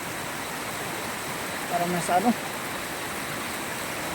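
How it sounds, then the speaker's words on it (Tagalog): Strong floodwater from heavy rain rushes through a large canal with a broad, steady roar, while someone talks briefly over it near the middle. "Sobrang lakas ng tubig."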